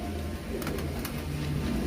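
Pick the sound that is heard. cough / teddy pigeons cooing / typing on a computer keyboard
teddy pigeons cooing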